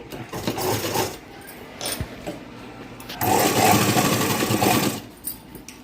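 A sewing machine stitches the tucks of a blouse in two runs of rapid, even whirring. The second burst is steadier and louder, with a short pause and a faint tap between them.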